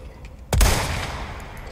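A sniper rifle firing in the Resident Evil 4 video game, one loud, heavy gunshot with a booming low end and a long fading tail, alone and close.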